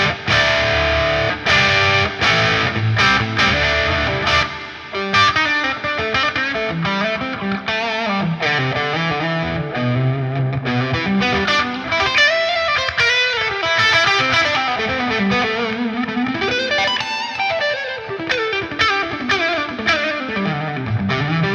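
Electric guitar runs through a Friedman Smallbox distortion pedal set for a Plexi-style tone with slightly reduced gain, playing loud, continuous chords and riffs.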